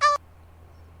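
Short electronic alert tone from point-of-sale software when a scanned SKU is not found, one brief buzzy honk lasting a fraction of a second and then quiet hum.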